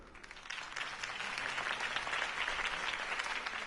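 Crowd applause greets Harvey Dent's campaign speech in Batman: A Telltale Story, a dense, steady patter of many clapping hands that swells slightly and holds at a moderate level throughout.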